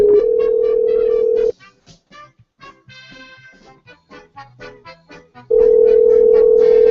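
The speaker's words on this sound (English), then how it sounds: "we're going to Skype him up" Skype call connecting: a loud steady tone, then a sparse series of soft electronic blips and clicks, then the tone returns.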